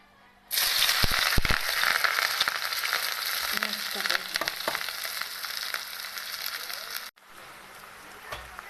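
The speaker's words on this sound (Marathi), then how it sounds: "आता मस्तपैकी हा हिरवी मिरची कांदा आणि लसण टाकून घेणार आहे आम्ही" Green chili, onion and garlic drop into a hot pan and burst into a loud, close sizzle that holds steady for several seconds, then cuts off abruptly to a quieter background.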